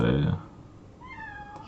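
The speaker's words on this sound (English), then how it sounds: "The cat's mad at me because" A cat locked out of a basement meows in a drawn-out, rising cry after a voice briefly speaks, fairly close and clear.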